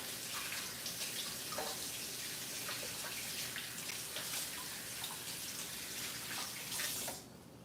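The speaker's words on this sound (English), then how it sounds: "Let me wash my hands because I don't want any onion fingers on my dough" Tap water runs steadily into a sink during handwashing, a close, continuous splashing hiss that stops abruptly near the end.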